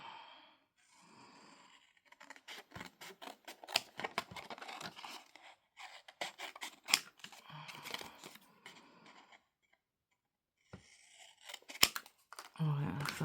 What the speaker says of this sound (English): Cut this out.